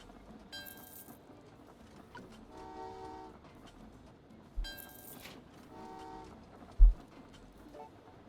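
Trains in the video game Train Valley 2 run along the track, with two bursts of bright horn-like toots over a steady low rumble and a couple of sharp thumps, fairly close and without talk.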